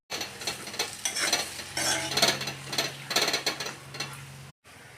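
Mutton liver is being stirred in a pan for a Kerala liver peratt, with rapid scraping and clinking of a spatula against metal over a faint sizzle, ending abruptly.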